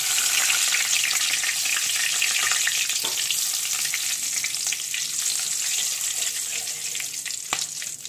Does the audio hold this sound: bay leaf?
yes